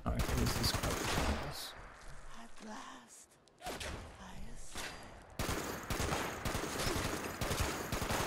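Gunfire from a weapon in the video game Fallout 76, loud dense bursts of shots filling most of the stretch, with a brief lull in the middle before the firing resumes hard.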